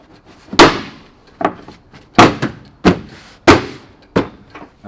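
A tube rock slider being banged into place on a Polaris Ranger 570 SP utility vehicle: a series of sharp, loud metallic thumps and knocks, about seven spaced impacts with short pauses between them.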